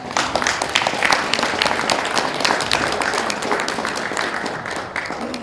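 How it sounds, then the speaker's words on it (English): Warm round of applause from a seated audience at the close of a librarians' session, steady dense clapping that holds for several seconds and gradually eases off near the end. "Can you please give them a hand clap?"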